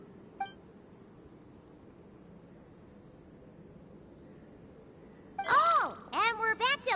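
Beeping communication chirps in Genshin Impact, a quick series of warbling electronic bleeps arriving near the end after a faint blip and quiet ambient hum.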